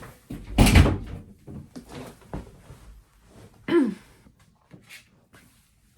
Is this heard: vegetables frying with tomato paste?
no